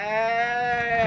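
A person's voice imitates a sheep's bleat in a single sustained, wavering baa lasting about a second, loud and close.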